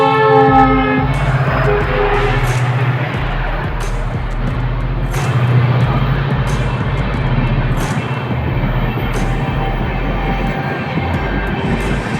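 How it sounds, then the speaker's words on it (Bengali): Sealdah to Bamanhat Uttarbanga Express, hauled by an electric locomotive, roars past a railway gate near Cooch Behar, with a long loud horn at the start and steady heavy rumbling and clattering wheels throughout. "one four seven Sealdah two Bamanhat Uttarbanga express"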